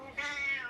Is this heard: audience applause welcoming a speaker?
no